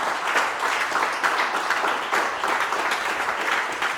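A church congregation applauds and acclaims the Lord during a worship service, a dense, steady wash of many hands clapping together for the full stretch, loud and continuous with no voice standing out.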